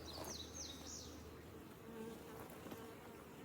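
Honey bees in a beehive hum in a dense, continuous buzz close by. Individual bees whine past with rising and falling pitch over a low, steady drone.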